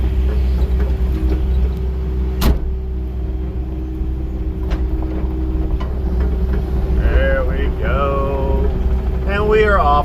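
A small boat motor chugs with a steady low drone on a pond, running continuously close by while people talk over it.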